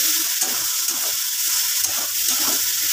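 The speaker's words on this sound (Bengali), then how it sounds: "মোচাটাকে এখন মাঝে মাঝে খুলতে হবে আর নাড়তে হবে" Banana flower frying in a pan while being stirred now and then, a continuous loud sizzle with soft scrapes and clinks underneath, nobody speaking.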